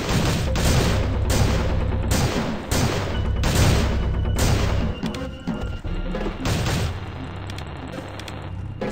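Gunfire in the video game Madness Project Nexus, a series of loud sharp repeated shots and crashing impacts in quick succession, dense at first then thinning toward the end.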